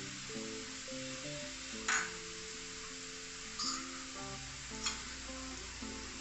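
Stuffing masala for stuffed pomfret frying in a pan, with a steady soft sizzle under background music and a few faint clinks of stirring.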